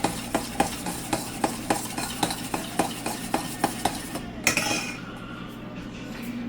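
Lo mein noodles being stirred and mixed in a pan, with a steady rhythm of utensil clinks and scrapes against the metal about every third of a second, close and clear, ending in a louder clatter.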